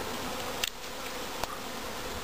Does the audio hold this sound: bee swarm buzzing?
yes